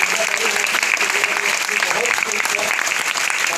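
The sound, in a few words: audience applause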